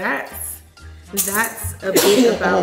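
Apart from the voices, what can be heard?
sneeze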